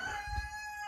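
A rooster crows briefly and faintly in the background of a quiet outdoor setting, a short burst with no speech over it.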